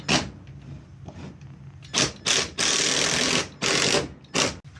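A power drill drives 2.5-inch screws into a wooden bottom plate, several loud close bursts of whirring, the longest near the middle, separated by short pauses.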